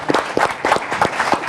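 A lecture-hall audience at a Harvard i-lab talk breaks into a short, dense burst of clapping, close and lively for about a second and a half.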